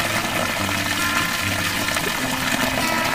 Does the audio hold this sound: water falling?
yes